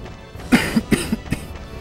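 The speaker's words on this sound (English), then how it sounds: "Cough, cough, cough." A person coughs in a quick series of about five short, close bursts, with no talking in between.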